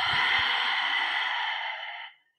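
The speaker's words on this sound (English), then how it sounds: "That hissing noise of the throat will come if you're breathing properly." Audible ujjayi-style yoga breathing: a steady hissing throat breath held for about two seconds, close and fairly loud, then cut off into silence, with no talking.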